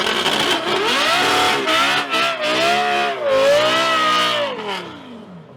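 A Volvo 245 fitted with a Lamborghini V10 engine drives by, roaring loud and close. Its pitch climbs and falls as it revs through the gears, then fades away at the end.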